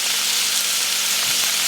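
Onions sizzle in a pan coated with orange pork chop marinade and meat juices, a steady, close hiss of frying that continues without a break.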